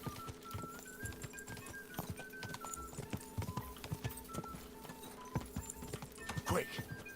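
Rhythmic clip-clop of galloping horse hooves during a horse race in Kingdom Come: Deliverance II, steady and quick over game music and ambience, with a person talking over it.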